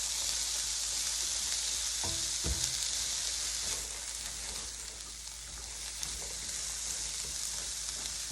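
Onions and jalapenos sauté in a hot pan for a barbecue sauce, giving a steady broadband sizzle throughout with a couple of brief stirring knocks near the start; no talking.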